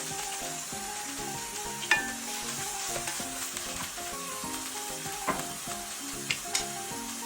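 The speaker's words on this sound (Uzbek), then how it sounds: "Qozonimizga 50 ml yog'ni solib qizdiramiz va to'g'rab olingan go'shtni qovurishni boshlaymiz." Chopped meat sizzles and fries in hot oil in a cauldron, a steady close crackle with a few sharper pops and stirring clinks, no talking.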